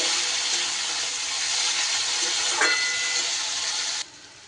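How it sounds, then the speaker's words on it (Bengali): Spice masala for a mung dal fries in a pan after a splash of water goes in, giving a loud, steady sizzling hiss that stops abruptly near the end. "মশলাটা যাতে লেগে না যায় খুব সামান্য একটু জল দিয়ে দিলাম, এতে কিন্তু মশলাটা কষাতে সুবিধা হবে।"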